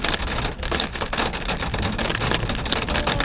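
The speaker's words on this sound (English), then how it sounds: "This is hail." Hail pelting a truck on a drive near Ouray and the Alpine Loop, a dense, continuous clatter of hard pellets drumming loudly on the body and roof for several seconds, with no voices.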